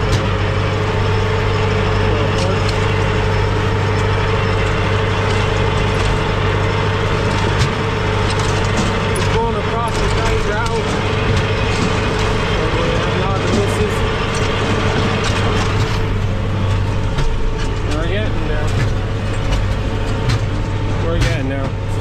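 A tractor pulling a beet harvester one row at a time in a field at sunset, its engine a loud, steady, low drone that holds without a break from start to finish.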